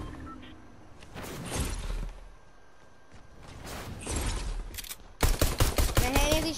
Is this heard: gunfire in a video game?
yes